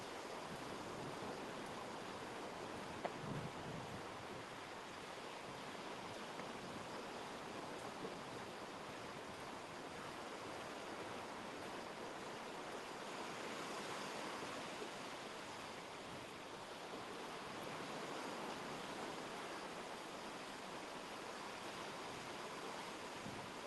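Waves wash onto a beach as a soft, continuous surf hiss, faint and distant with gentle swells and no speech.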